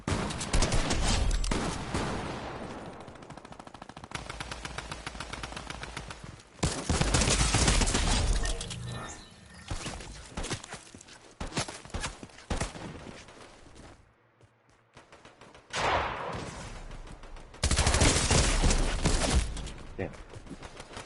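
Dense bursts of automatic gunfire and rapid shots come from a shooter video game in a gun game mode, loud and repeated with short pauses, and a voice talks at times.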